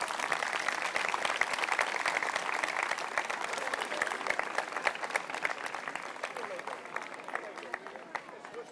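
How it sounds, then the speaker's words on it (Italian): Crowd applause at a Guardia di Finanza drug-sniffing dog demonstration, continuous dense clapping from a sizable outdoor audience that stays loud and gradually thins toward the end, with faint chatter mixed in. "un applauso"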